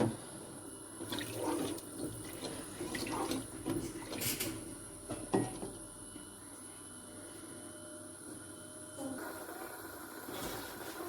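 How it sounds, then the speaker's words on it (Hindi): Water is poured from a glass onto roasted white chickpeas in a pot for rice pulao, making a continuous splashing gush that runs through most of the passage and eases off near the end. "अब इसमें 2 गिलास चावल थे तो 2 गिलास मैं पानी डालूंगी।"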